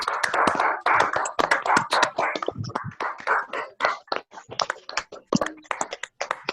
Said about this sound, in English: he deserves, like last time, a round of applause, which you can do by unmuting your mic for a minute or so